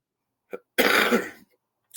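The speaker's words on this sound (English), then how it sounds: "Pardon the cough." A single short cough, close and abrupt, with a faint throat sound just before it and quiet around it.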